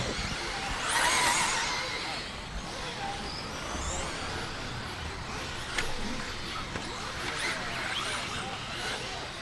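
Two-wheel-drive and four-wheel-drive race cars run together on a dirt raceway, their engines a distant droning roar with occasional tire scrubbing, under a continuous bed of crowd and background noise.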